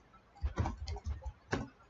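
A computer keyboard clicks as someone types in Microsoft Word during a primary-school ICT lesson, with a short run of close, crisp keystrokes followed by one sharper tap.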